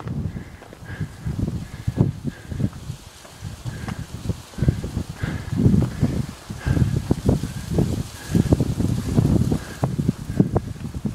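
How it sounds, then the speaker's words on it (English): Strong daily wind gusts on a hike at Lion Head buffet the microphone close up in a continuous low, rumbling roar that swells and surges unevenly, with faint rustling underneath. "The proverbial, or the daily Durenia windstorm for this area, making its presence known."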